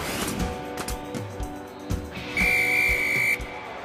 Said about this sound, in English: No mistaking that whistle.